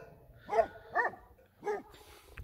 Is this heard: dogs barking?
yes